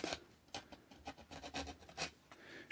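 A scratch-built HO scale model building part is sanded by hand, heard as soft, close, irregular rubbing and rasping strokes with brief pauses between them and no talking.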